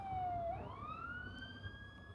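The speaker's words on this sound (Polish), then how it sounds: "a teraz jeszcze jakaś straż pożarna przejeżdża." A fire engine siren sweeps down and then rises again, moderately distant over low traffic rumble, as it passes through heavy traffic near Warsaw.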